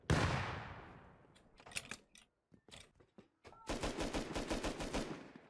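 Bursts of gunfire in the survival video game Rust, a dense rattling volley at the start, then scattered single and short-burst shots, ending in a loud rapid automatic string.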